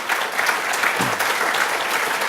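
Audience applause at the SciPy 2013 conference welcome, a steady dense wash of clapping across the hall that holds at an even level throughout, with no talk over it.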